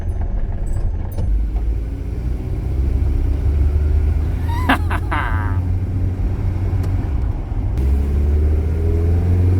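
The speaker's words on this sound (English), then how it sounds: "It's got a bit of an exhaust rattle." A 1990 Toyota Hilux pickup's engine runs on the road with a loose exhaust rattle, giving a steady low rumble throughout with brief tinny clatters partway through.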